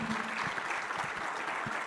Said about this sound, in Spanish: por favor, un fuerte aplauso para nuestros panelistas